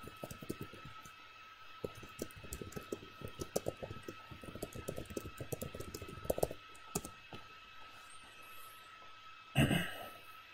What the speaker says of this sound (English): We can just type that in and see what we get.